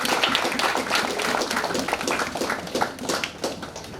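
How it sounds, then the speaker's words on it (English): A crowd of students at a young writers' fiction workshop applauds a classmate, with dense, steady clapping filling the room and a few louder hand claps and cheers rising through the wash. "Huge round of applause."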